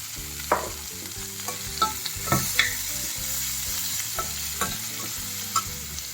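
Sliced onions and green chilies fry in a pan with a steady sizzle, broken by repeated stirring scrapes and a few sharper clinks of the utensil against the pan, all close and fairly loud.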